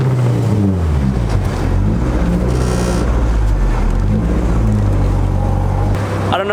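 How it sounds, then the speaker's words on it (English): A Honda Civic with a K24 engine and straight-pipe exhaust roars loudly and steadily nearby on a two-step ignition cut, with the pitch wavering as it holds and then drops off. "I did have ignition cut two-step, so here, I'll hit it for you guys really quick"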